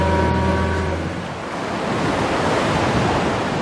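Wind at sea aboard an anchovy fishing boat, a steady broad rush of wind and surf noise, loud and close, swelling and easing slightly, with a low engine hum at the start.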